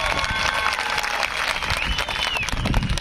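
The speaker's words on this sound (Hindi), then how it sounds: "जोर से ताली बजाइए" An audience applauds at an Indian political rally, with continuous loud, dense clapping from a large crowd and scattered cheers and whistles mixed in.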